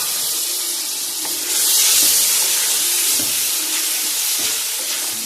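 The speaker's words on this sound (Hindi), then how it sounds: "अब हम इसमें शामिल करते हैं मटर" Loud steady sizzle and hiss of green peas tipped into a pot of cooking meat for aloo mutter gosht, rising sharply partway through as they hit the hot oil, with faint stirring clinks.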